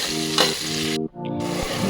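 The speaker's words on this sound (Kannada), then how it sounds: "ಸ್ವಲ್ಪ ಈರುಳ್ಳಿ ಕೆಂಪಾಗೋವರೆಗೂ ಹುರಿಬೇಕು." Onion frying in hot oil gives a close, steady sizzle that cuts out briefly for a moment before resuming.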